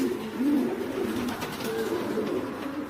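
Pigeons coo repeatedly in a breeding loft where hens sit on eggs and squabs, the low rolling calls overlapping steadily and close by, with no voices.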